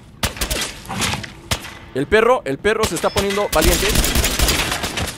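Rapid bursts of gunfire in Fallout 4 crackle repeatedly, loud and close, while someone speaks excitedly over the shots.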